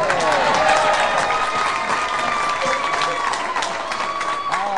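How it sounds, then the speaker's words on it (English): Studio audience applauding and cheering for a contestant celebrating his 22nd birthday on a game show, dense steady clapping with whoops throughout, loud and close. "How about a big round of applause, everybody, for Jimmy Tobin?"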